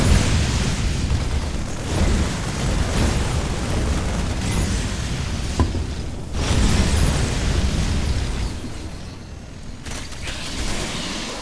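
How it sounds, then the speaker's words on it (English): Hellions in StarCraft 2 attack Protoss probes, giving a dense, continuous wash of flame bursts and explosions with scattered pops and impacts, loud throughout with small dips. "the Hellions are destroying every single probe."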